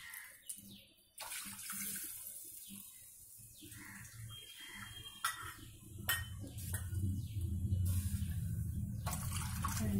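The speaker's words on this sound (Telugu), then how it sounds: "ఇదో కరెక్ట్గా అలాగే వేయాలి వాటర్, 4 గ్లాసులు వాటర్." Water splashes as it is poured from a glass into a pan, four glassfuls for semolina kesari, in a series of short pours that build into a louder, steadier gushing flow toward the end.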